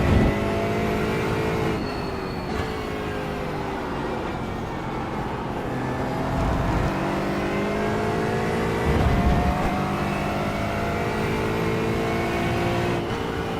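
Race car engines in the iRacing video game during a Michelin Pilot Challenge race at Watkins Glen, a continuous loud engine drone rising and falling with gear shifts and throttle changes, with other cars close by and no talking.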